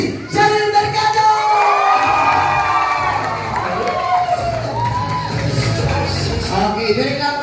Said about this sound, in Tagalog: Kailangan pag sinabi ko palakpak para kay Miss Jenny Mercado